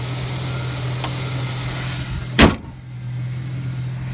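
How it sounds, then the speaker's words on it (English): The hood of a 2001 Ford Mustang with a 3.8L V6 slams shut in a single sharp, loud thud, close by, over a steady low hum. "Let me shut the hood too, guys."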